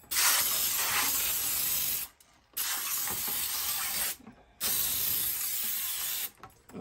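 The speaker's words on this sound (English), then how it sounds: "Okay, so spray my pan and let it sit here." Cooking spray hisses onto a baking pan in three loud, close bursts of about two seconds each, with short silent pauses between them and no talking.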